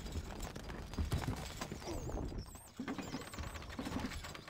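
Horse hooves in the video game Stronghold: Crusader patter in a rapid, irregular clatter beneath a busy game soundscape with chirps and whistling tones, fairly faint and mixed with other effects.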